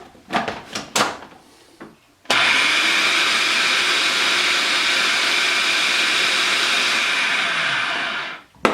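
Food processor grinding caramelized onion hummus runs as a loud, steady whirring roar for about six seconds, preceded by a few knocks and clatters, then cuts off abruptly.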